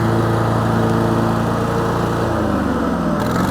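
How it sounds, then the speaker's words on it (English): A Kubota T1870 lawn tractor mows with its deck lowered and PTO engaged, its engine droning steadily and loud throughout, with a slight drop in pitch near the end as the load shifts. "Lower the deck down, engage our PTO, and mow."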